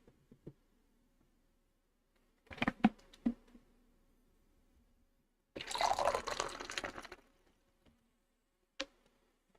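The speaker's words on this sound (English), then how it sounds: "I'm going to pour a cup of tea." Tea pours into a cup in a quiet room, a short trickling splash of liquid lasting a few seconds, framed by a few scattered small clinks and knocks before and after.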